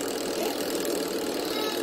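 A Sanken two-tub washing machine, model TW-8387DBX, spinning in its dryer tub: a steady, loud whirring hum with a faint rattling texture, continuous and alone.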